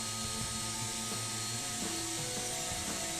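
A router with a 1/2 inch bit cuts a 1/4 inch deep, 1/2 inch wide channel into a wooden lid for an acrylic camera dome. It gives off a steady, droning whine that holds evenly from start to finish.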